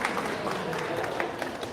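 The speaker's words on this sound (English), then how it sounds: "give mom, dad, friend, family, whoever it was that drove you down here, big round of applause for them" Quiet applause from an audience at a pastry arts competition awards ceremony, a short burst of scattered clapping heard from a distance.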